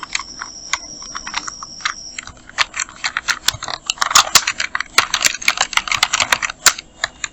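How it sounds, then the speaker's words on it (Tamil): Typing on a computer keyboard while designing a calendar in Photoshop, heard as a close, steady stream of quick plastic key clicks with irregular bursts and short pauses, alone without talking. "ஃபஸ்ட்டு நம்ம எல்லாத்தையும் டைப் பண்ணிடலாம்."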